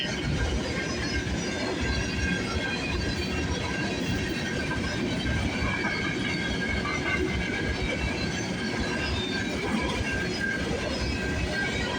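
A CN freight train with a distributed power unit locomotive rolls steadily past on a snowy morning, a continuous close rumble of wheels and cars with no breaks throughout.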